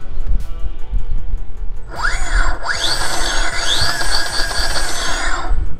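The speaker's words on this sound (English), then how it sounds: "let's hear the motor one more time." Electric motor of a Zero motorcycle spinning up, a rising high-pitched whine that sweeps up and down in pitch, starting after a quiet stretch and holding loud to the end.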